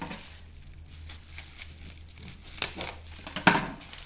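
Paper and packing material crinkle and tear as a well-packed parcel of handmade boxes, including a heart-shaped one, is unwrapped up close, with a couple of sharper rustles and knocks near the end.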